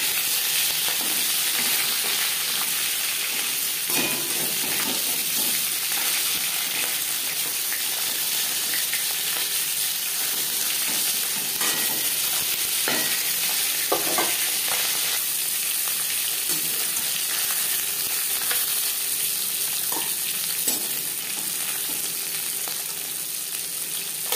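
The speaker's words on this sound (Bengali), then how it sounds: "একটা সাইড ভাজা হয়ে গেলে অপর সাইডটা উল্টে দেবো" Rohu fish sizzling steadily in hot oil in a pan, a constant crackling hiss with a few occasional louder pops and scrapes.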